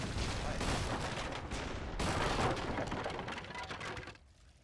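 Dense, rapid booming and crackling bursts of Napoleonic heavy cannon fire in the game Age of Empires III roll on continuously, loud and close, then cut off abruptly near the end.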